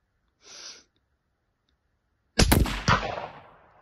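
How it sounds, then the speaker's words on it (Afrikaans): A sharp .223 rifle shot cracks loudly at a gong target, its boom rolling off and decaying over about a second, preceded by a brief faint rustle. "gaan ek net 'n skoot skiet"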